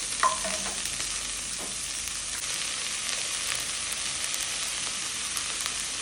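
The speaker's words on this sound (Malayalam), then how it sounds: "ഉള്ളി ഇത് ഒന്ന് ട്രാൻസ്ലൂസൻ്റ് ആവുന്നവരെ ഇത് സോട്ട് ചെയ്ത് എടുക്കും" Sliced onions and curry leaves sauté in hot oil in a pan, giving a steady, close sizzle with a few stirring scrapes near the start and no talking.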